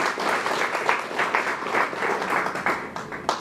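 A room full of people claps warmly for an association, dense and steady applause with rising and falling swells throughout.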